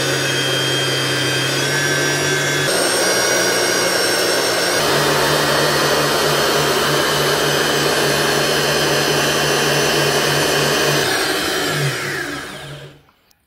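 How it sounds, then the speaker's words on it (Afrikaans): An electric mixer whips ice-cold cream from the fridge stiff, a loud steady motor whine that holds for over ten seconds, shifts pitch slightly, then cuts off at the end. "So as jou room oornag in die yskas staan en hy's lekker yskoud, het jy niks anders nodig om dit lekker styf te klits nie."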